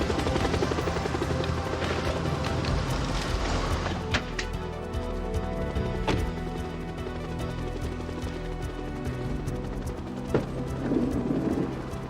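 A police helicopter flies overhead in a coastal police drama, its steady rotor drone running continuously through the scene at a loud, even level with occasional thumps and clatter on top.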